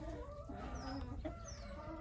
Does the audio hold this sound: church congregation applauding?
no